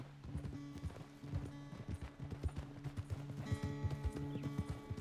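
Rhythmic horse hooves clip-clopping at a steady trot in Red Dead Redemption 2, loud and close, with a faint whinny near the end.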